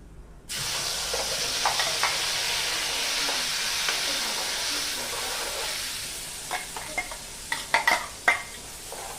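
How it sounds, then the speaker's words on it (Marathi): Tomato puree hits a hot pan while making a potato and green pea curry, bursting into a loud, steady sizzle that fades over several seconds, then gives way to close scraping stirs. "टोमॅटोची प्युरी याच्यामध्ये टाकून घेतली ही टोमॅटोची प्युरी याच्यात टाकलेली आहे"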